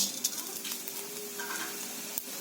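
Oil heating and being stirred in a kadai before coriander and cumin go in, a steady soft sizzle with faint scraping, close and fairly quiet throughout.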